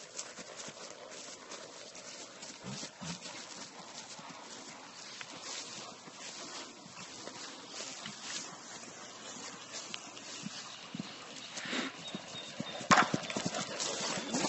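Hooves of a horse clip-clop across the ground during jumping training, a steady rhythmic thudding heard at moderate distance over outdoor ambience, with a brief faint voice.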